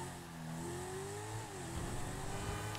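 A Dinka Jester sports car engine, modeled on the Honda/Acura NSX, hums steadily in GTA 5 Online, its pitch sliding up and down as it slows and parks, continuous and fairly close.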